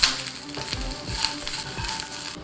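Curry leaves fry in hot oil with sesame seeds, cinnamon, cardamom and cloves, giving a crackling sizzle close up and a few soft stirring scrapes over a short stretch, with no talking.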